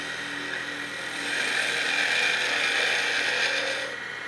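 A skew chisel takes a planing cut along a wooden spindle spinning on a lathe, giving a steady close hissing whir that swells and holds for a few seconds before easing off.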